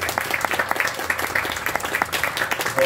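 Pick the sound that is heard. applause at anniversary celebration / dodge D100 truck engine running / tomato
applause at anniversary celebration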